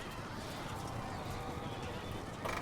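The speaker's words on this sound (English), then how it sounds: "We broke those Mongol horse archers." Horse cavalry in the Medieval Total War game, with neighing and clip-clopping hooves blended into a dense, faint battle din, steady throughout and brightening briefly near the end.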